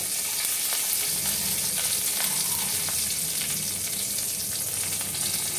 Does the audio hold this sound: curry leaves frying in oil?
yes